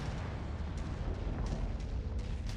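Turret gunfire and explosions in the mech combat game MechWarrior 5: Mercenaries rumble as a continuous, heavy low boom with scattered sharp bursts, loud and unbroken, with no voices.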